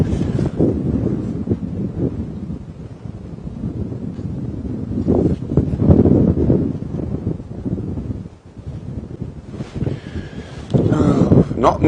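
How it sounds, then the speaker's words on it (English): Strong gusting wind buffets an outdoor microphone on an open-vehicle safari drive, rising and falling in loud rushing bursts across the whole stretch. "And I'm sure you can hear it on the top mic. It's gusting wind."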